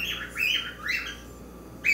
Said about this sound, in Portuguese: É a minha calopsita.